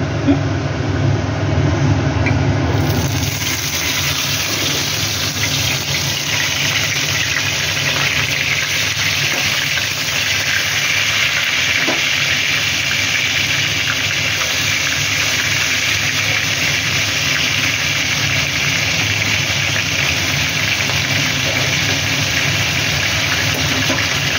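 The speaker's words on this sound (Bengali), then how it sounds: "এবার এই আমি মাছগুলো এক এক করে ছাড়বো।" Fish frying in hot oil spread across a flat tawa, a loud, steady broadband sizzle that rises after a short quiet start and holds close and continuous with no talk.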